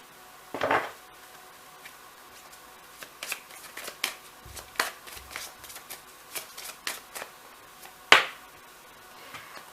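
Tarot cards shuffled and drawn by hand for a reading, with crisp riffles and scattered flicks and taps of cards landing, close and fairly quiet, no talking.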